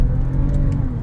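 A 2008 Lexus ES350 accelerating hard, a loud, close, steady engine drone with rising pitch over about a second.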